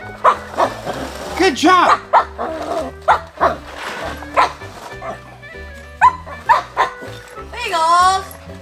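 A small dog barks in sharp, repeated yaps and a few whimpers near a Paw Patrol Big Truck Stop toy set, with people talking and giving encouragement between the barks.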